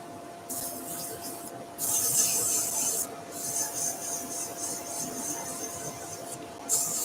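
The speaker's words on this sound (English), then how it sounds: "I'm going to put a French polish on and then strengthen it with some carnauba wax directly" A cloth pad rubs French polish onto a turned wooden bowl on a lathe, a steady close hiss of friction that swells and fades in long strokes over a constant motor hum.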